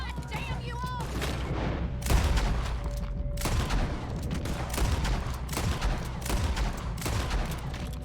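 Gunfire in Red Dead Redemption 2, a sustained shootout of loud, rapid shots cracking close and far in dense clusters for several seconds, with shouting and a voice talking over the barrage.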